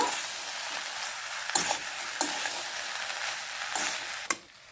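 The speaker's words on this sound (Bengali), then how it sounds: "আরও একবার একটু নেড়ে নেব, খুব ভালোভাবে এটাকে মিশিয়ে দেব।" Ghugni being stirred in a pan after boiled peas and fried potatoes are added: a soft sizzle runs under several sharp scrapes and knocks of the spoon against the pan, spaced irregularly.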